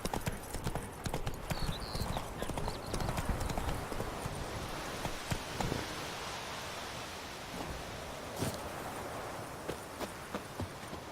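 A horse gallops along in The Witcher 3, its hooves clip-clopping in a steady, continuous rhythm close by, with outdoor wind-like ambience and no talking.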